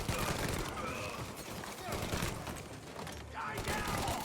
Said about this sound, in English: You shoot him.